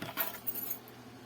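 A set of keys handled while a school bag is being packed: a few quiet metallic jingles and clinks, close and faint, with no voices.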